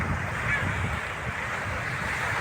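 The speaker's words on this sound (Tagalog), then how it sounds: "Medyo malakas ang alon" Strong sea waves breaking on the Catanduanes shore make a continuous, heavy roar with a dense low rumble and some wind buffeting, close and loud, with no voices.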